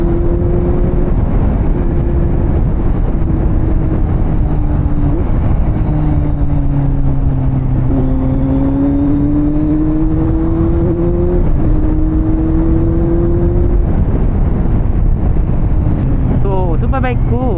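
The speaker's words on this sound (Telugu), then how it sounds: "super bike" A superbike engine idles and revs, its tone rising and falling in several sustained pulls, close and loud with wind buffeting, while someone talks over it.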